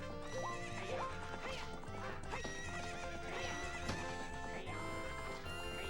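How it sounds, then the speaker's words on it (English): In Zelda: Ocarina of Time, the horse Epona whinnies over galloping hoofbeats, set against loud game music that plays continuously throughout. "What's up with that horse? Is that Epona?"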